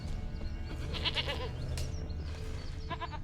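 A goat bleating in The Witcher 3, several nasal wavering bleats close by over a low ambient game soundtrack, with one short burst near the end.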